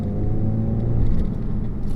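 A Renault Megane RS Trophy engine rumbles and rises slightly as it accelerates, a low steady drone heard from inside the car.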